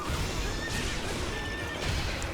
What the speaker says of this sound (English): I have a horse to stomp on you with